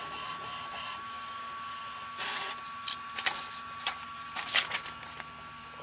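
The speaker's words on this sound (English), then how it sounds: "There you have it, a wireless printer." A small wireless mobile printer whirs and clicks as it feeds and prints from an iPad, with faint mechanical ticks and short bursts of motor noise at close range.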